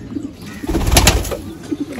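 Chinese teddy pigeons coo close by, a soft throaty burst swelling in the middle with a few quieter coos around it and no voices.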